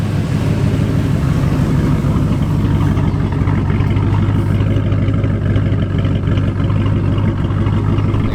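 A Foxbody car engine idles steadily, a loud, close, even rumble with a constant low throb throughout.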